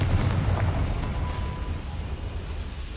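A Confringo fire spell goes off in Hogwarts Legacy on PS5, a loud booming blast at the start that rumbles and fades into a low, steady roar over three seconds.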